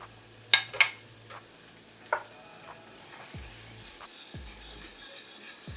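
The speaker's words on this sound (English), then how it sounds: "You want to start by toasting your fennel seeds in there and your smoked paprika." Fennel seeds and smoked paprika toasting in a pan: a few sharp metallic clinks of a utensil against the pan early on, then a faint, steady sizzle with soft stirring scrapes.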